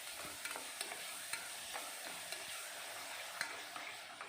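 A spoon stirs a ground paste of tomato, fennel, ginger and garlic into onions frying in oil for an egg gravy, giving a soft steady sizzle broken by repeated scraping clicks of the spoon against the pan.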